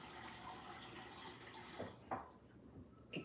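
Water is poured from a tap over rice in a cooking pot, a faint continuous trickling splash with a few louder gurgles toward the end, heard fairly close with no talking.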